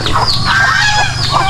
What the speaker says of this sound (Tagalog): Ayun, oh, yung mga pabo.